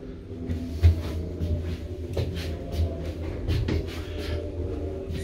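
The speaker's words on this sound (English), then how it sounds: "Please mind the doors. Doors closed." Doors of a 2019 Concept passenger lift in a car park sliding shut, with soft rumbling movement and a few dull knocks close by, no talking.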